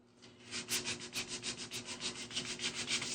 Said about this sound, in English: So I'm gonna sand it back.